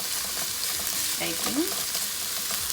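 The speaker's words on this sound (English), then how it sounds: "my spatula and just kind of stirring that to get everything incorporated there" A spatula stirs frozen onions in a hot pan under a steady sizzle of frying, with a soft scrape partway through and a voice talking over it.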